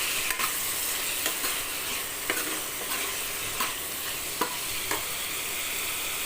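Tomatoes sauté in a pan for spinach kadayal, producing an even, moderate sizzle punctuated by regular light taps and scrapes of a stirring spoon.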